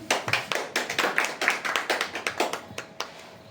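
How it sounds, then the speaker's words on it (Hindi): An audience claps at a welcome with a flower garland, a fairly sparse, distinct run of hand claps that thins out and stops after about three seconds. "तालियां।"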